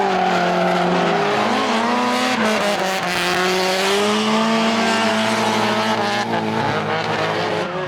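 A car does runs at a motorsport event, its engine droning and shifting in pitch alongside tire squeal, loud and continuous throughout.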